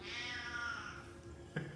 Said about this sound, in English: What, kitty?